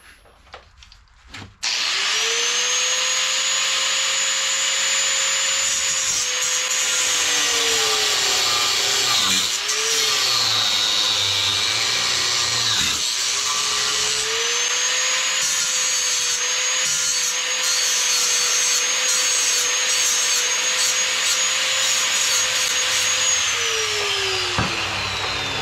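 A cutoff tool slices through a bolt on a transfer case shifter linkage, a loud, sustained high-pitched metallic whine and grind that starts abruptly, dips briefly midway, then runs on steadily for over twenty seconds before stopping.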